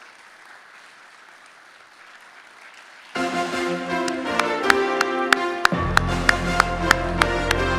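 An audience at a church inauguration ceremony bursts into applause after a quiet stretch, the clapping dense and sustained, with sharp taps standing out.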